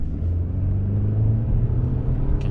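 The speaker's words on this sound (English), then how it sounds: "You can hear the engine roar." A sporty car's engine roars from inside the cabin, a loud steady low rumble with sustained harmonic drone and no speech over it.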